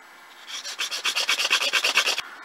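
Rhythmic rasping strokes of a file sharpening a chisel point on a woodworking marking tool, a dozen or so quick, even back-and-forth passes close up with no talk.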